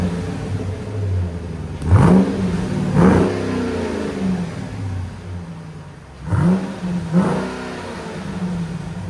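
A Dodge Durango SRT 392 with a 6.4L HEMI V8 on its factory exhaust revs up sharply four times, two blips close together, then a pause and two more, with a low idle rumble between the pulls.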